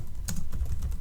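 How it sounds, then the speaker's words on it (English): Fingers type on a computer keyboard in a quick, close run of soft key taps, with no voices. "we will type download"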